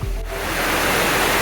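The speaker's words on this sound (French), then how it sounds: "Tout près, l'impressionnante cascade Éléphant rugit." Powerful roar of the Elephant waterfall in Vietnam, a steady, dense wash of falling water filling the whole clip, close and loud with no voices.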